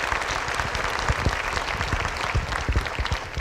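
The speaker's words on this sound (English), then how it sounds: "So let's give him an applause." An audience at a school district awards ceremony claps warmly, a steady wash of many hands applauding nearby, with a few louder individual claps standing out.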